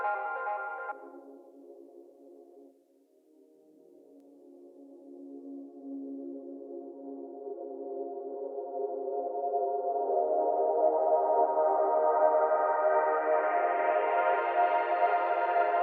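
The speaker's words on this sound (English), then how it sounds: "Finally, we have the pad." A synth pad from an Ableton Live breakbeat track plays alone. It starts with a faint, short chord, drops to a soft low drone, then slowly swells into a bright, sustained wash that grows steadily louder.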